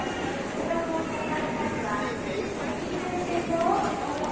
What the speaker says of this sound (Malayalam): ഷിൻകാൻസൻ എന്ന് പറയുന്നത് ബുള്ളറ്റ് ട്രെയിൻ.